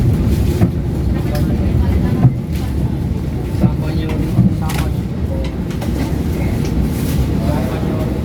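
An electric commuter train of CRRC make rumbles along nearby with a steady low roll and occasional clunks, with people talking over it.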